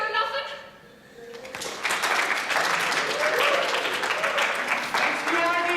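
Audience applause with scattered cheers at a fairground box-social auction right after a $53 bid, rising suddenly from a quieter moment into sustained, dense clapping that carries on steadily to the end.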